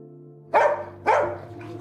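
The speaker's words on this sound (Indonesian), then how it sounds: "Dingga yang terus menggonggong seakan ingin keluar mengejar Cholmin." A dog in a Korean film scene gives two sharp, fairly close barks about half a second apart, heard over a low steady hum.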